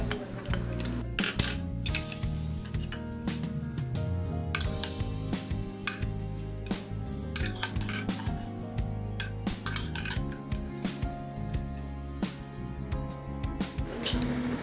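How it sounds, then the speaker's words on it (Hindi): Pressure cooker of cooked chickpeas and potatoes being opened in a kitchen, with repeated metallic clanks and clinks of the lid and pot, close and busy. "चलिए कुकर खोल लेते हैं।"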